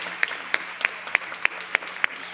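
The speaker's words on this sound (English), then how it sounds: "I think that's worth a round of applause." At a community luncheon panel discussion, sharp claps fall in a regular, evenly spaced beat of about eight strikes, fairly close and crisp over a faint hum.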